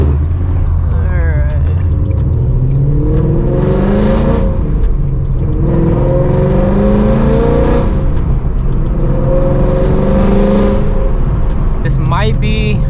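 A Ford Mustang GT engine idles with a deep rumble and rises through a few revs, swelling and falling back, loud and close, while someone talks over it.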